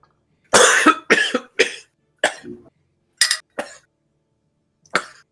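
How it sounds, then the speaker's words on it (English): A person who has just inhaled liquid coughs in a string of sharp, close bursts, several in quick succession, then a pause and two more isolated coughs against silence. "Keep coughing, you'll be okay."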